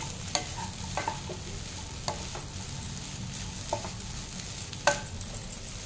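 Vegetables with broccoli being stirred in a pan over a soft steady sizzle, with several distinct scraping strokes spaced irregularly and one sharper clack near the end, no voices.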